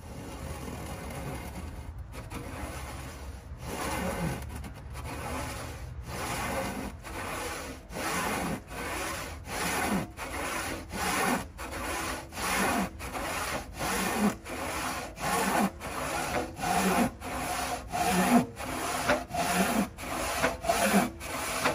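Vintage handsaw cutting into wood with rhythmic back-and-forth rasping strokes, starting slowly and settling into a steady, quickening series of roughly twenty crisp, close strokes.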